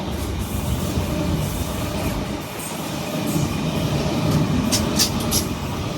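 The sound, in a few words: Sydney Trains Oscar H-set train at Allawah Station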